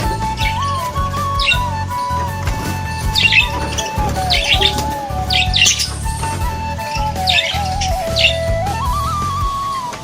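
Pet budgerigars squawk and chatter up close, a busy stream of harsh chirps and rasping calls over a steady low hum and whining tone in the background, with no voices.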